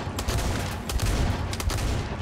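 A video game gun built for punching holes through walls fires continuously, with loud, close shots in quick, uneven succession over dense, roaring game noise.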